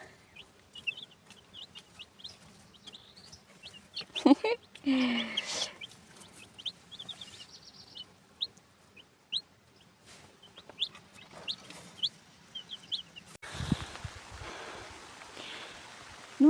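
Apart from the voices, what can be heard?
chick peeping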